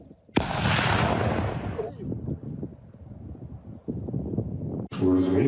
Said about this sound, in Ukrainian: Ось таку, до речі, потужність мала та вибухова речовина. На цьому запису її знешкоджують.